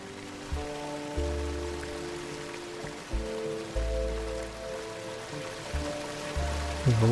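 Waterfall ambience in an indie video game: a steady rushing, splashing water wash runs throughout, with repeated low synthetic tones and game sounds layered over it.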